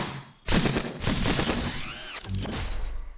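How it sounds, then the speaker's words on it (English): Siege mode activates in the video game Cogmind, a burst of harsh mechanical crashes and clanks with a short sweeping whine, loud and close, running for a few seconds without talk. "Siege mode engage. I love that sound effect."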